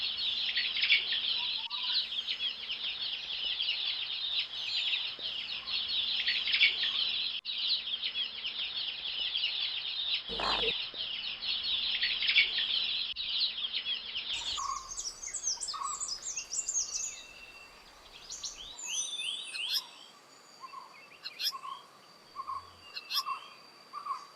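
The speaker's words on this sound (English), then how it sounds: "Chicks always compete for being fed the first." Bird chicks call insistently while competing to be fed, a dense stream of high chirps filling the first half, then sparser, varied calls and short sharp notes after a shift in the scene.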